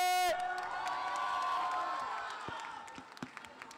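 A crowd at a music album launch event cheers and claps after a performance, a broad wash of cheering and applause that fades toward scattered claps and shouts.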